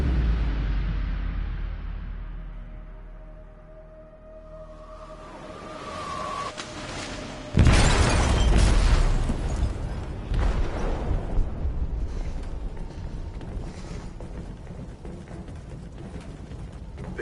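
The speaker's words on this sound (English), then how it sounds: "They detonated an explosive in the hold." An explosive detonates in a ship's hold in a video game. A deep rumble fades out, then a heavy, loud boom hits and rolls on into a sustained roar with crackling debris.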